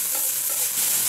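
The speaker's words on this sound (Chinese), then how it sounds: "加入漂亮土豆丝、青椒，大火翻炒" Shredded potato and green pepper being stir-fried over high heat in a wok with dried chilies, giving a loud, steady sizzle with continuous scraping and tossing and no talking.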